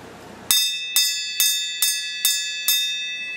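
A hand-rung bell, struck six times at an even pace with clear ringing tones that decay between strikes, close and alone with no talk.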